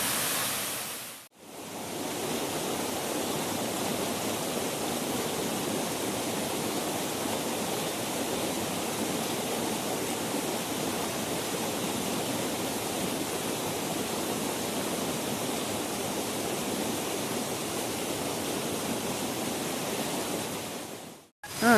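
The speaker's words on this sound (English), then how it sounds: "Nothing better than Indian Creek Falls." Rushing water pours at Indian Creek Falls along the Deep Creek trail, a steady broadband roar that holds constant and loud, with a brief break near the start and end.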